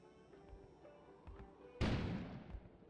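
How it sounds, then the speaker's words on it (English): A sudden loud explosion bursts outside in the snowstorm-swept setting of the video game Kona, breaking over a low ambient rumble and faint earlier thuds, then rolling off in a long noisy decay. "An explosion suddenly occurred outside."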